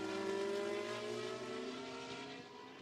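Race car at Spa taking a corner, a faint, tonal engine note holding steady and then dropping in pitch and fading as it moves away, alone without talk.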